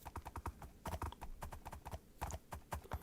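Horse hooves clip-clop in the Minecraft Lord of the Rings mod, a quick, uneven run of close hollow clopping steps that pauses briefly before carrying on, alone without talk.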